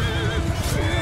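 A horse whinnies in the video game Mount & Blade II: Bannerlord, a single close, wavering neigh lasting about a second, with faint hoof clatter beneath.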